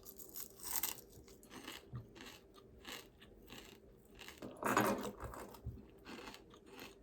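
Crunchy fried croaker fish chewed up close, repeated crisp bites and crunches in an uneven rhythm, loudest near the middle, with no talking.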